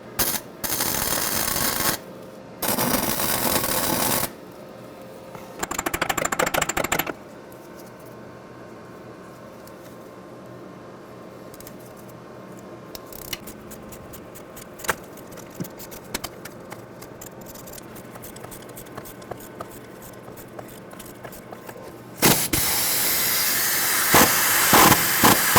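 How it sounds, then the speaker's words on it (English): Welding a nut onto a cut exhaust manifold stud on a 2004-2009 Ford F-150 5.4L three-valve engine: loud bursts of harsh buzzing arc noise in short runs, separated by quieter crackles and ticks, with a final long steady burst. "Now we're just going to weld the nut like I kind of wanted to from the beginning."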